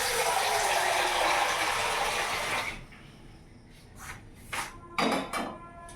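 Water pours into a cooking pot in a home kitchen before pasta is boiled. A steady gushing stream lasts a few seconds, then stops, followed by a few soft knocks and clinks.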